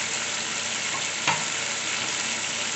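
Green chillies sizzling in a frying pan of aloo gobi, a constant dense hissing fry with one brief clatter partway through.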